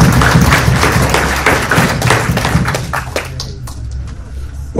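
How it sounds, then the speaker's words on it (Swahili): A church congregation claps together, a dense wash of hand claps that stays loud and steady for a few seconds, then thins out into a handful of scattered claps as it dies away. "Na tumpigie tena Mungu makofi tafadhali."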